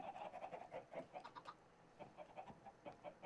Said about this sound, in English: we got a few chickens left in here